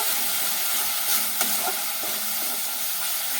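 Ground cumin, coriander and turmeric fry in a pan while being stirred, giving a steady close sizzle with soft scraping strokes throughout and no voices.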